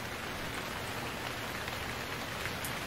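Steady rain in the survival game Stranded Deep, a dense even hiss of drops pattering on surfaces, continuous and close with no break.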